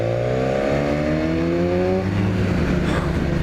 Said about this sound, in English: You hear it blurping the throttle a little bit when you're down doing that